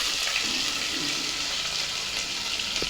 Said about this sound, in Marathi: हा कांदा मी त्याच्यामध्ये परतायला लागणार